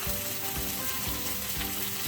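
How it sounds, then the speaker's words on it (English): Greens sizzle and fry in a pan for a vegetable omelet, a steady loud crackling hiss broken by occasional soft thumps of stirring and spreading. "you can hear the sizzle"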